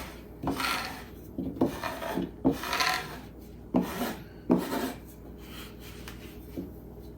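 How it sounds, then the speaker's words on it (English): A bench scraper gathers holiday candy dough scraps dusted with powdered sugar, making six separate close scraping strokes against a work surface. Each scrape is a short rasp followed by a brief pause, and no voice is heard. "I'm going to get my bench scraper, and I'm just going to bring all of this together."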